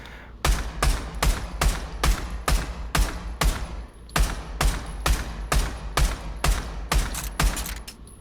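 Full-auto pistol fire in the VR shooter Pavlov VR: about fifteen sharp, loud shots crack out at a steady, even pace across the whole stretch, with no talking.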